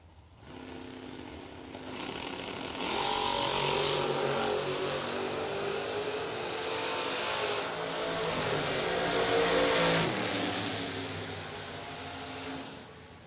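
An S10 pickup truck drag racing down a strip at a big-money event, a loud roaring run that swells, peaks and fades over several seconds, heard from trackside with crowd noise beneath.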